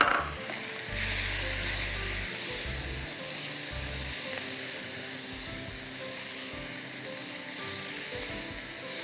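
Tomatoes with garam masala, turmeric and red chili powder sizzle steadily as they cook down in a pan, a continuous close frying hiss with occasional low stirring thumps and no talking.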